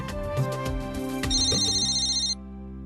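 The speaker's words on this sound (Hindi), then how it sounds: "तो सिमर का फोन, एक मिनट ना" A mobile phone rings in a Hindi TV drama scene: a loud, bright melodic ringtone repeating its tones for a few seconds, then it cuts off, with no talking over it.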